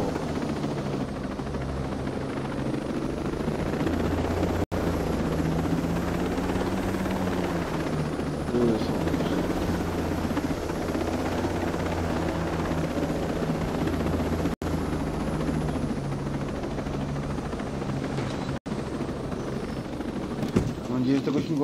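A helicopter in the video game Ghost Recon Breakpoint, its rotor a steady throbbing drone held at constant loudness with a low engine hum beneath, broken by a few sharp clicks, with no voices heard.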